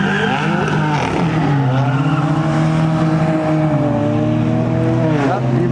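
Two cars, one a BMW, launch down a quarter-mile drag strip at a Southern California Euro car meet, loud engines rising in pitch and sweeping through gear changes, with crowd chatter mixed in throughout.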